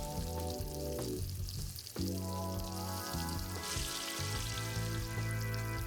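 Cigarettes frying in eggs in a hot pan give a loud, steady sizzle with crackling and bubbling throughout. A brief dip comes just before the two-second mark, and no one speaks.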